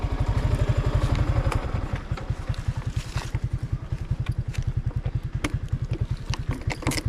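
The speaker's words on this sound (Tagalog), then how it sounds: "May mga nagmotor nga dito oh." A motorcycle engine chugs close by in a steady, rapid low pulsing, loud and even throughout, with a few light clatters over it and no talking.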